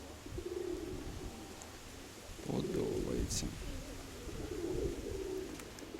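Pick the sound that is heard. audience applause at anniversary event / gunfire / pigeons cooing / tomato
pigeons cooing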